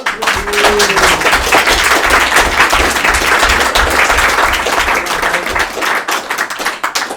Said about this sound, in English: All right, so I think big round of applause.